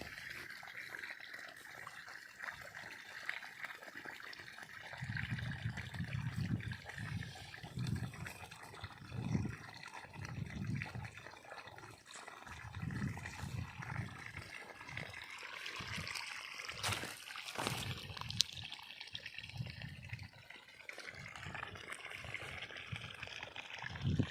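Faint, steady trickle of running water flowing into an irrigation channel watering mango trees, with soft low thumps and rustling throughout.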